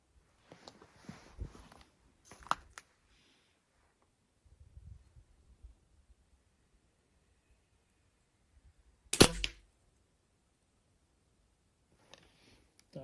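A few sharp, quiet pops of a Shanghai B1-1 air gun firing Luman 0.45 pellets at a target, with one louder crack near the end amid handling noises and silence.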